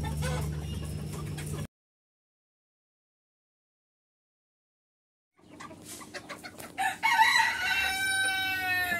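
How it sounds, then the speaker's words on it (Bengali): Silkie chickens clucking and crowing close by, with a burst of busy clucks at the start, a silent gap, then overlapping clucks and a drawn-out rooster crow. "আর 1 পিস সিল্কের মরক।"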